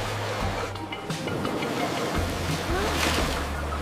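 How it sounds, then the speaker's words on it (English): Ocean waves wash onto a beach in a continuous roar of surf, with wind buffeting the microphone and a low rumble underneath. "Let's go feel those waves."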